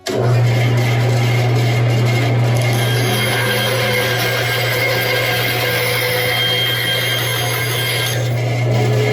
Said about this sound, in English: And now we're going to go over to the bandsaw.